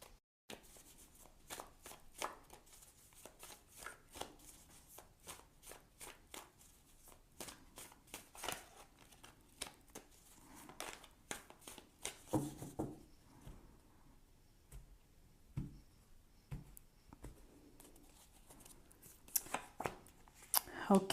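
Tarot and oracle cards are shuffled and handled, giving a long run of quiet, rapid riffling and slapping taps, with a few heavier shuffling bursts near the end.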